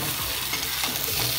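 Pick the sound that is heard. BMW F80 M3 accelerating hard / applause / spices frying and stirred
spices frying and stirred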